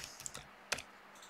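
A few quiet, separate clicks of keys on a computer keyboard as a web address is typed, with soft taps followed by one sharper keystroke.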